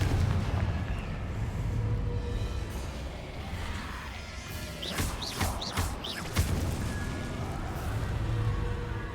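Confringo fire spells crack and burst repeatedly in Hogwarts Legacy, heavy blasts layered over dense low rumble, with sharp impacts clustering near the middle amid a continuous roaring battle backdrop.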